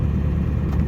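Ford 7.3 Powerstroke diesel truck engine on high idle, a steady loud low rumble close by.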